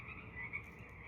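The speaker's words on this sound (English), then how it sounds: "You hear the frogs jumping in the water?" Frogs croak in a faint, steady chorus by the water at night, a soft continuous trilling with no voices over it.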